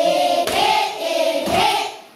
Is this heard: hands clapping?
yes